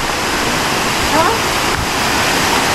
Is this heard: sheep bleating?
no